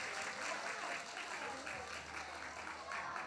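A church congregation at a Sunday worship service claps steadily to welcome the children's department kids forward before they perform a worship dance, a dense, continuous round of applause that stays fairly even throughout.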